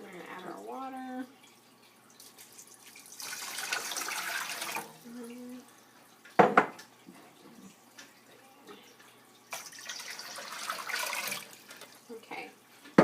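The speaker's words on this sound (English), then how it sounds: "Okay, we're going to add our water." Water runs and splashes in two bursts with short pauses, poured into a blender nearby for almond milk, with clinks and light handling noises in between.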